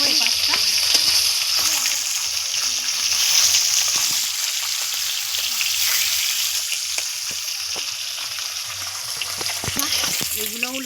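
Fish belly pieces fry in hot oil with a loud, continuous close sizzle and crackle, broken by scattered spatters and the scrape of pieces being turned.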